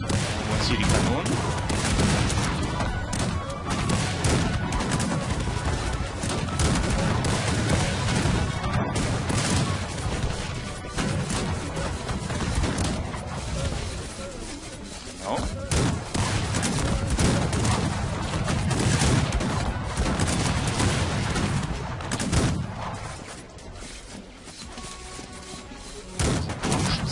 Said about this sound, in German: Und hier die Kanonen.